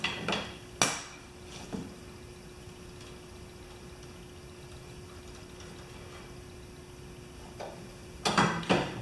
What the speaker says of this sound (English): Using the top wrench to turn the ratchet